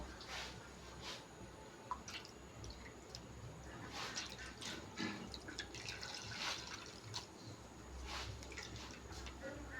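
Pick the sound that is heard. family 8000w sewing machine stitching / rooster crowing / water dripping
water dripping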